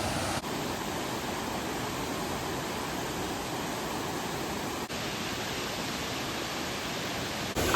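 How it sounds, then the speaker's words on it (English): A mountain waterfall on an autumn road trip, a steady, dense rushing hiss of falling water that holds constant throughout at moderate level, with no voices. "this waterfall is beautiful"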